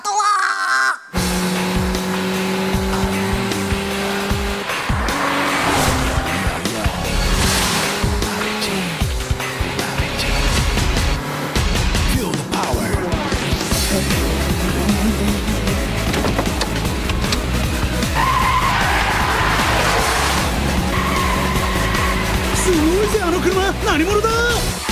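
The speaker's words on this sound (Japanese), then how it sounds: "下りのブレーキングドリフト完璧だよ。" Downhill braking drift in an FD sports car, with sustained tire squeal and skidding over a loud revving engine, continuous and close, with voices talking over it.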